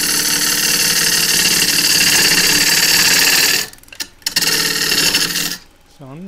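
A wood lathe turning an ash vase whirs loudly and steadily, then cuts out briefly and restarts with a sputtering hum as it spins up to higher speed, before slowing down near the end.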